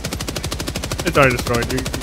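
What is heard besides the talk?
shotgun fire in the video game Helldivers 2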